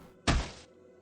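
A body slams hard against a door in a video game, giving a single heavy, loud thud that fades quickly, with no talk.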